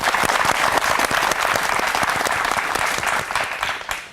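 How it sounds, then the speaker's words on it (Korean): An audience at a Korean mock crowdfunding pitch show claps loudly and steadily, then the applause thins out near the end. "큰 박수 부탁드립니다."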